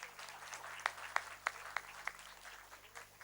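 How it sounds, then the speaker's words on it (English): Faint applause from a conference audience, a soft wash of distant clapping with a few sharper, louder claps standing out near the front, fading out after about two seconds. "Please give a big round of applause."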